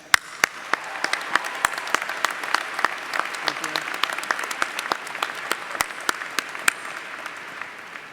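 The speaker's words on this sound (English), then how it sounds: "Please join me in applauding these special guests" Applause from the audience at a college arts and sciences commencement ceremony, a steady, moderately distant patter of many hands with individual sharp claps popping out, continuing for several seconds.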